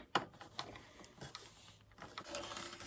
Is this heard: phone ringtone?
no